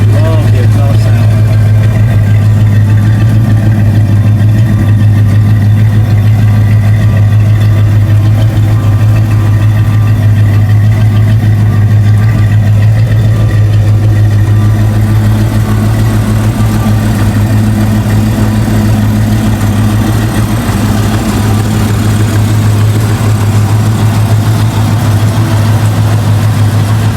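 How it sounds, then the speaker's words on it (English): Ford Fox Body Mustang idling through a dual exhaust, a steady low mellow rumble that holds constant and close for the whole stretch, with a slight shift in tone partway through. "the dual exhaust that sticks out. Real nice and low, mellow, rumbling sound"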